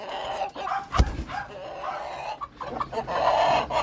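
Backyard chickens, including newly hatched ones in a flock with a sickness, cluck and murmur continuously at close range, with one sharper squawk standing out.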